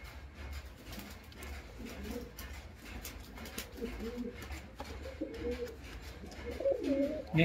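Teddy pigeons of a Mugli breed coo steadily close by, low throaty rolling calls overlapping one another and growing louder toward the end, over a faint constant hum.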